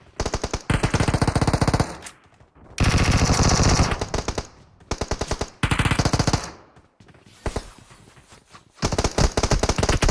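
Automatic gunfire in a battle royale video game, loud close bursts of rapid shots in several strings separated by short gaps.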